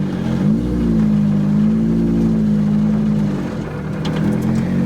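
Lotus Exige engine heard from inside the cabin while driving, a loud steady mid-pitched drone that rises briefly under acceleration, then holds and eases off, close and continuous with no talking.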